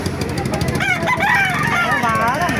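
A rooster crows at a chicken market in Baliuag, Bulacan, one drawn-out, wavering call rising and falling against a steady, noisy crowd background with faint voices.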